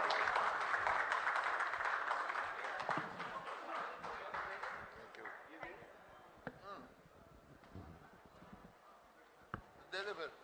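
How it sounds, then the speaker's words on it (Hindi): An audience at a Haryana news conclave breaks into loud, dense applause that slowly thins into scattered claps, with a few isolated claps near the end. "जोरदार तालियां एक बार फिर से।"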